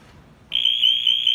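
After a short quiet moment, a dock safety device's electrical alarm, triggered by current in the water, beeps on and holds a steady piercing high tone, loud and close.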